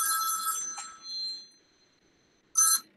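Telephone ringing with a bright electronic trill that sounds, fades off, then returns in another short burst after a silent pause, close and clear with no talk.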